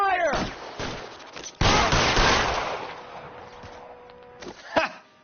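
Gunfire in the video game L.A. Noire, a loud sustained burst of shots with sharp cracks at the start and end, tailing off between them.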